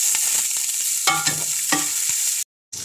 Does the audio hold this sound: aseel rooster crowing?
no